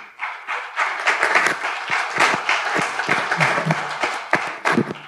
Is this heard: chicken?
no